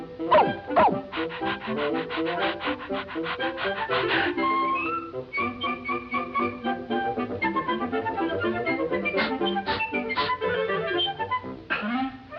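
Cartoon dog Pluto barking and yipping in quick bursts over lively orchestral cartoon music, the barks rising and falling with whimpering yelps mixed in.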